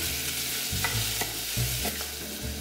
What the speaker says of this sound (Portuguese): O óleo já está quente. Agora vamos acrescentar a cebola.